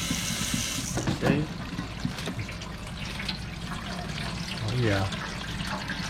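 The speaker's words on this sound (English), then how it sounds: "I'm gonna pour the water" Water is poured and trickles into a pot of tamales in a steamer, with short splashy streams near the start and again near the end, while people talk briefly over it.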